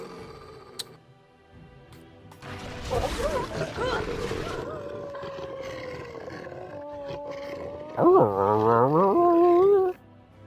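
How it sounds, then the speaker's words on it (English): A stock wolf howl from a video game rises in long tonal wails, first a drawn-out cry and later a louder, wavering howl near the end, against quiet game ambience. "that sort of generic wolf howl in so many games"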